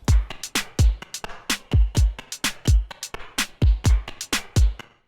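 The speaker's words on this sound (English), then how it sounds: "It's just like hi-hats, claps, a little bit of snare, and a kick. So here's just the drums by themselves." Simple programmed drum loop of kick, snare, claps and hi-hats playing on its own, punchy booming kicks and crisp sharp hits in a steady repeating groove.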